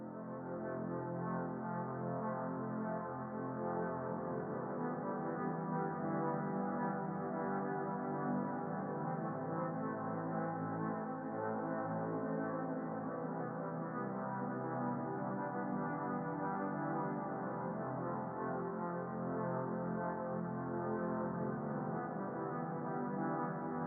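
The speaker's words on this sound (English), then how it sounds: "The strings sound like this." A sustained strings part from a music production plays on its own as a dense, steady bed of layered tones, fairly quiet and unbroken for the whole stretch.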